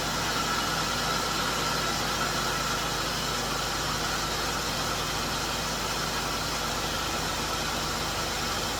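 Steady, even hum of a car engine idling smoothly after its motor was put back together, continuous and unchanging with a faint vibrating rumble underneath.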